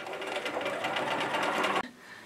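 A Bernina 1080 sewing machine stitches fabric in a fast, even run of rapid needle clatter, close and steady for nearly two seconds before stopping abruptly, with no voice over it.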